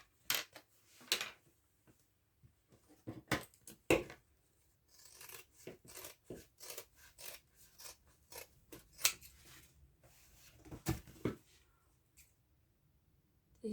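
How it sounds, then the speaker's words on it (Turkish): Scissors snipping through felt along a shape drawn in colored pen, making a car seat organizer piece; repeated crisp close cuts in irregular bursts with brief pauses, no talking. "çizdikten sonra o şekli kesiyorum"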